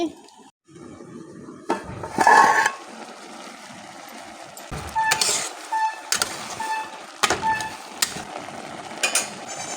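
Metal lid clanks and scrapes onto a cooking pot as prawns are being cooked, a few sharp clinks and rattles close by amid soft kitchen clatter.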